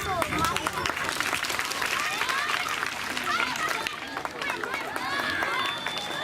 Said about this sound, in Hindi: जोरदार ताली यहाँ से बजा दिए अपन